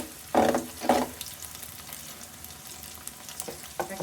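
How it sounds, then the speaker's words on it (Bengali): Onion frying in a pan with vegetables, a steady low sizzle broken by two loud bursts of stirring near the start and a couple of lighter stirs toward the end, close and without speech. "সবজির পেঁয়াজটা ভাজা ভাজা হয়ে গেছে"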